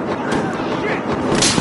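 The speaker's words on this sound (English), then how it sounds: "Here goes the frag grenade." Frag grenade detonating in Battlefield Hardline on PS4, a loud booming blast with a rumbling tail, heard close up.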